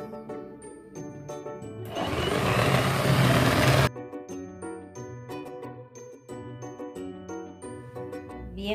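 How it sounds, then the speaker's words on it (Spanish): An electric mixer beats egg yolks in a home kitchen, a loud, steady whirring burst of about two seconds rising over background music with chiming tones. "ahora sí, empezamos a batir las yemas"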